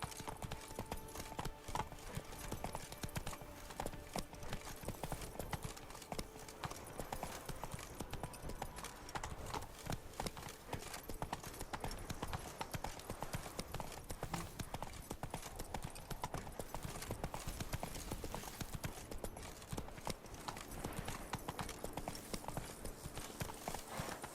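Roach, Geralt's horse in The Witcher 3: Wild Hunt, trots along with steady, continuous clip-clopping hooves, faint and level throughout, with no voices over it.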